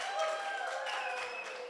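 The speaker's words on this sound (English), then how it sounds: "The food a round of applause." An audience at an art awards show applauds the food from Beatstro restaurant, a brief, steady wash of clapping heard from a distance with no one speaking.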